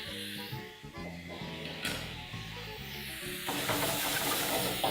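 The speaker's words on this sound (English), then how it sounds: "proceed to toss everything together in the pan" Beef fried rice with sesame seeds is tossed in a hot pan, with a steady sizzle and hiss under a spoon scraping and stirring. The frying grows louder near the end, and background music plays along.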